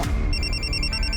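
A telephone rings with a bright, continuous electronic trill, close and loud, with no voices over it.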